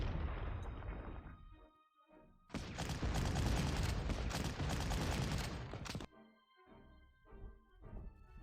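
Game artillery in the wartime strategy game Panzer Corps lets off a long, dense, roaring barrage of blasts between quieter rumbling stretches. The bombardment is loud and continuous, with no voices over it.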